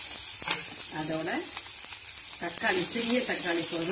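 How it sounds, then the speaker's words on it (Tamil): Onion, green chilli and curry leaves sauté in a pan, making a steady sizzle beneath a person talking throughout. "வெங்காயம் பச்சை மிளகாய் கருவேப்பிலை நல்லா வதங்கின உடனே"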